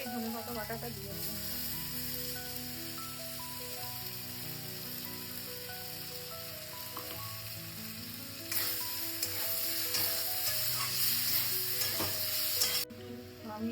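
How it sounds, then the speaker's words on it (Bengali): Brinjal sizzles and fries in a pan with coriander paste and tempering, a steady close crackle with occasional stirring scrapes that grows louder and busier toward the end. "ফোড়নটা দিয়ে আমি বেগুনটাকে আবার একটু নাড়িয়ে নিলাম।"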